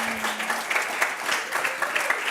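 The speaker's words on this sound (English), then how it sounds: "Can we just give another big round of applause?" Live-event audience applauding warmly at a Climate One community gathering, a continuous, moderately loud patter of many hands with a brief voice or tone early on.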